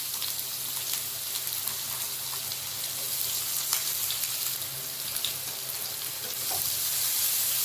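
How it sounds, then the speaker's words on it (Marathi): Chopped onion fries in hot oil with cumin seeds and asafoetida, a dense close sizzle with light stirring clicks that swells a little louder near the end; no one speaks. "तेल गरम झालेलं आहे, त्यामध्ये मी हे जिरं सोडून घेते आणि हिंग सोडते."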